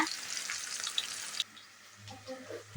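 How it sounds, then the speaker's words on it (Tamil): Onion and green chillies with fennel frying in oil, a bright close sizzle for about a second and a half, then dropping away to quieter stirring clatter. "வெங்காயம் பச்சை மிளகாய் ரெண்டையும் நல்லா பொன்னிறமாக வதக்கிக்கலாங்க"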